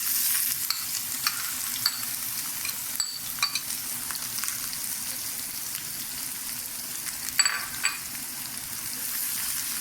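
Onions frying in oil in a pan on a lit stove, a steady crackling sizzle throughout with occasional louder pops and stirring scrapes, close and fairly loud.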